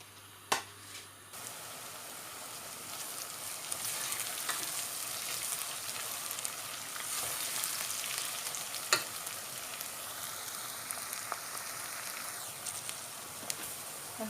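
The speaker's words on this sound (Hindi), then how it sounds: "अब इनको थोड़ा सा फ्राई करते हैं इंशाल्लाह।" Onions frying in a pan for chicken biryani give a steady, dense sizzle and crackle close by, with a few clinks of stirring and no speech.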